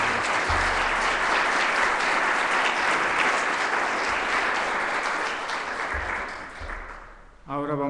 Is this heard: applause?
yes